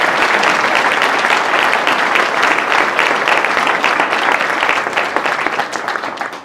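A hall audience gives sustained, loud applause during a mayor's New Year address in Villeneuve-le-Roi, the clapping steady and thick before tapering slightly at the end.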